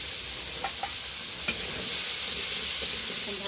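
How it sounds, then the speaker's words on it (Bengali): Spices with turmeric and salt frying in a pan, a steady close sizzle with a few stirring clinks and scrapes, growing slightly louder toward the end. "ভালো করে ভেজে নিব"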